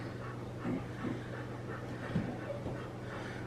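Groodle puppies pant and whimper softly nearby, with a few short breathy bursts and faint whines over a low steady background hum.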